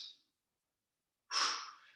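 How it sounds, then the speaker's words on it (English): Loud nasal breathing during a yoga core exercise: a brief exhale fades at the start, then after a pause a strong, close breath through the nose rises and slowly tails off. "I'm just breathing a little loud so you can hear me."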